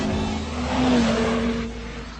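An Audi TT RS races along a track, its engine note rising and sweeping past at fairly close range, loud and steady throughout with a broad rushing roar beneath.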